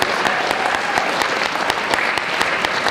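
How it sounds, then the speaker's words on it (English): Audience applause at a 2008 academic society banquet in Rotterdam, a steady dense patter of many hands clapping in a room, with no speech over it. "Let's give them a round of applause for those 3."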